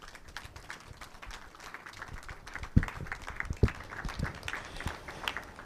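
Scattered, thin applause from an audience at a Ghanaian report launch on maternal health services after a speech, quiet overall, with a few sharper individual claps standing out near the middle.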